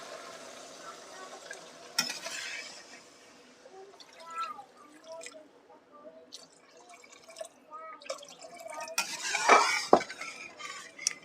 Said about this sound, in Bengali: এখানে আমি জল অ্যাড করে দিচ্ছি